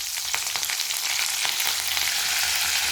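Green chillies and curry leaves frying in hot oil with mustard and cumin seeds, for an onion and raw mango curry; a steady, close sizzle runs throughout, dotted with sharp crackles and pops.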